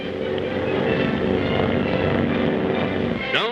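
Propeller-driven B-18 bomber aircraft in flight during a mock air raid exercise, producing a loud, continuous droning roar with a steady throbbing beat throughout.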